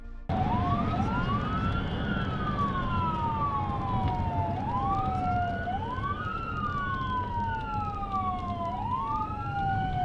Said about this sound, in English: Trooper Niles was the first on it, eyes-locked sirens on